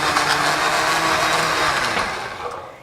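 A blender purees dates, giving a loud, continuous whirring motor roar with a gritty churning texture that eases off slightly toward the end, with no talk over it.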